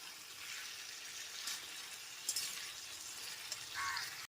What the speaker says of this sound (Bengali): সমস্ত সবজিগুলো মশলার সাথে খুব ভালো মতো কষানো হয়ে গেছে